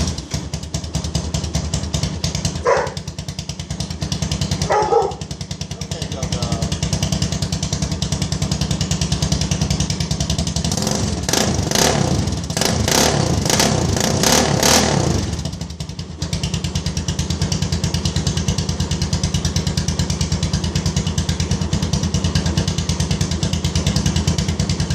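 A small homemade boat motor runs loudly and continuously on a test run, a buzzing steady drone with brief rattling bursts midway, close by.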